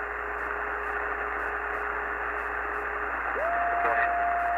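Steady hiss of CB radio static between base and mobile stations during skip conditions, loud and continuous with faint tones sliding through, no voices coming through.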